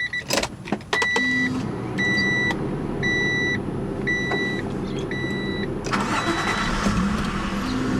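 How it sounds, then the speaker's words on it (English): A 1994 Acura Legend engine cranks and catches, then settles into a steady idle while a series of electronic dashboard chimes repeat above it. "you can see she purrs, she starts right up, and Tyson pretty much has never had any pro"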